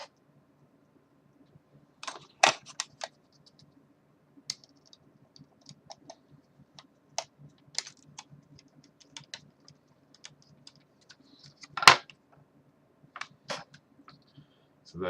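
Small screws are tightened into a DeLorean model kit, giving sparse, quiet clicks and ticks scattered irregularly, close and faint against near silence.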